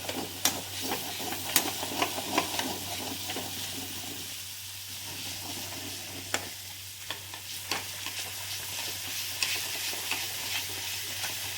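Banana flower fries in a pan with a constant soft sizzle, broken by sharp scraping clicks of a utensil stirring it at irregular intervals, close and fairly quiet.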